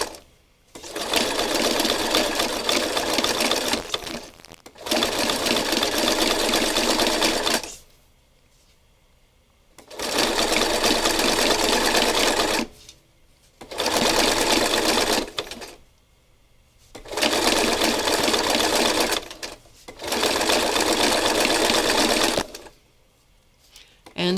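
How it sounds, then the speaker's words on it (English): A sewing machine zigzag-stitches trim onto a quilted piece in about five steady, loud bursts of several seconds each, separated by short quiet pauses. "sometimes I like to stitch over the trim a second time with a little denser zigzag stitch"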